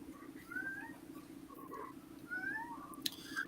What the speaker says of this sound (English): I hear your kittens in the background